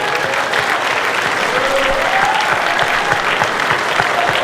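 An audience applauds a graduating veterans' class at a 2017 graduation ceremony, steady dense clapping filling the hall without a break.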